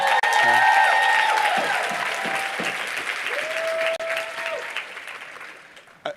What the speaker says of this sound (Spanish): Un fuerte aplauso a Brandon